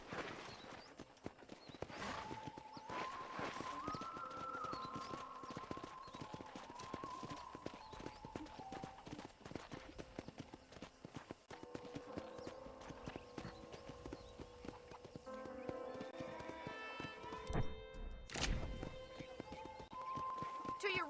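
Horse hoofbeats clip-clop steadily while a rider travels through a ranch in the video game Red Dead Redemption, moderately close, with background music and voices talking over the gait.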